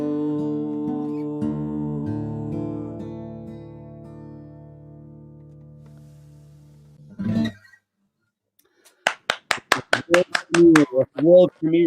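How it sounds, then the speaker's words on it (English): Two hands clapping, a quick run of about a dozen sharp claps near the end following sustained musical tones and a pause. "that was the sound of 2 hands clapping"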